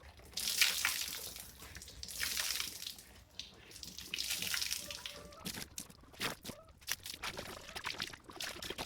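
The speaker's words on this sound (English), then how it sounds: "And it's still dripping that much." Water from a soaked gambeson trickles and splashes in uneven bursts, faint and close by, with a few brief sounds of handling in between.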